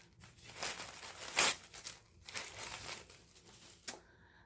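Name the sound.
unwrapping a package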